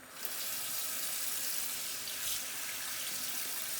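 Steady rush of water streaming from a tap onto a makeup brush in a brush cleaner, a continuous hissy flow with no voices, constant in level throughout.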